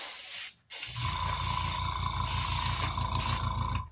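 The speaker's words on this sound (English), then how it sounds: "We're just gonna use up some airbrush here." An airbrush sprays paint in a loud, close hiss that cuts out briefly and then resumes, pulsing in short bursts with a faint motor hum underneath.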